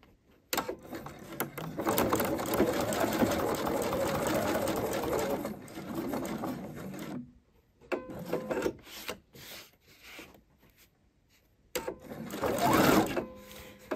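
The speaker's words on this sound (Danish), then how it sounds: "Jeg laver lige sådan en 5 mm kantstikning rundt." A sewing machine stitches a 5 mm decorative edge seam around a welt pocket. It runs steadily and up close for about seven seconds, pauses, then comes back in short, stop-start bursts.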